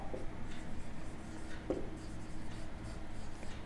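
A polynomial's degree is written on a board in a math class, giving soft, faint scratching strokes under a steady room hum, with no clear speech.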